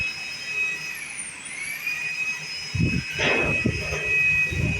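A speed boat engine at a beach in Muscat, Oman, drones as a steady whining hum with a faint pitch sweep, joined by low rumbling surges toward the end.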